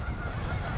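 Geese on a partly thawed river give a short, loud burst of honking calls over a busy outdoor background.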